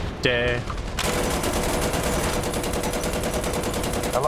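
Sustained tank machine gun fire from a Merkava Mk.2b in War Thunder, aimed at an Alouette helicopter: a dense, loud, continuous rattle that starts after a brief opening burst and runs to the end.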